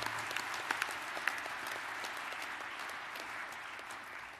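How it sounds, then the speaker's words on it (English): Applause from a conference audience at an awards moment for best reviewers, steady and fairly faint, heard from a distance with a few sharper claps near the start. "So let's give them a round of applause for their efforts."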